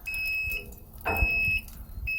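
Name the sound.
smoker controller beeping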